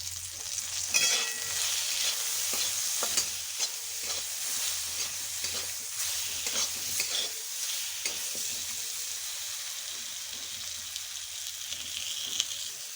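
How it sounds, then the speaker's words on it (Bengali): Green mango with turmeric powder is stirred in a frying pan, giving a continuous hissing sizzle with soft repeated scraping strokes of a spatula, close up and steady. "হলুদ গুঁড়ো দিয়ে আমটা একটু নেড়ে নিলাম।"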